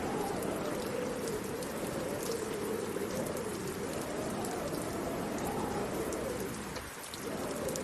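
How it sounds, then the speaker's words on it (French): Steady, loud rain ambience with dense drops on surfaces and a windy storm backdrop plays continuously during a tabletop roleplay session, with a brief dip near the end and no voices over it. "il y a un petit peu moins de pluie, mais il y a toujours beaucoup de vent."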